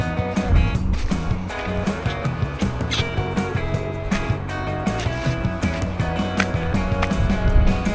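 A 2024 Ford Ranger crawls off-road over rocky, bumpy ground, with a steady close engine rumble under continual knocks, rattles and crunching impacts from the suspension and tires.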